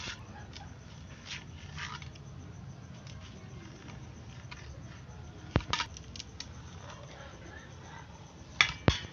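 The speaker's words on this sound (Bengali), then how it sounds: "তা পনিরটা আমি কেটে নেব" Knife cuts through a block of paneer while preparing palak paneer, quiet soft taps and patters against a board, with a few sharper clicks near the end.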